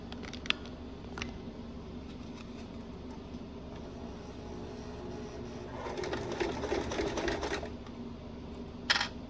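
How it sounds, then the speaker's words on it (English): Sewing machine top stitching a fabric sling with a bulky zipper: a faint low motor hum for most of the stretch, a busier rattling run of stitching near the end and a few sharp clicks, quiet and close, with no talking. "then we're going to top stitch"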